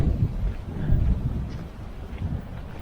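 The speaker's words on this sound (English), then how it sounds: "Looking a little windy and choppy today" Strong wind buffets the microphone on a Greek island coastal path near a beach with choppy sea, a continuous low roaring rumble with gusty swells, loud and close.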